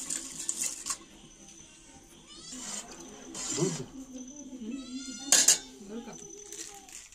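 A cat meows several times, short near cries spaced apart with a louder one toward the end, against a quiet household background with a voice briefly heard.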